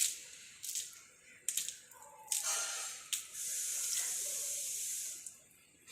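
Water sprayed and poured over a Hitachi window air conditioner during a leak test, heard as several close splashing bursts followed by a longer steady hiss of spraying water.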